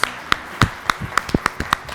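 A handful of sharp claps spaced out at an uneven pace, sounding like sparse applause from a few people in a room at a children's game show.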